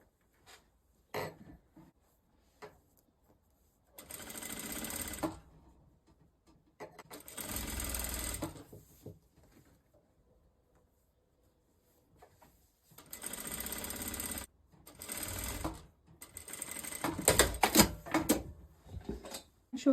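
A sewing machine stitches binding along the edge of a Danni Rose wrap dress, running in several separate bursts of steady mechanical whirring, with pauses and soft handling noises between runs.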